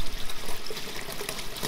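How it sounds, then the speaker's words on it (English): A garden hose runs full blast through a house rain gutter, a steady rushing, splashing flow of water, close and continuous. "I got a garden hose running in the gutter full blast."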